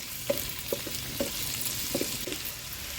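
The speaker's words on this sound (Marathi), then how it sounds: "आलं लसूण क्रश तेलावर घालणार आहोत ते छान परतून घ्यायचं आहे" Crushed ginger and garlic fry in oil over a wood-fired stove, giving a steady close sizzle punctuated by several light clicks and scrapes of stirring, with no voices.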